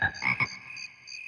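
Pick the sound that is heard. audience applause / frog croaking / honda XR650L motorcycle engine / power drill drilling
frog croaking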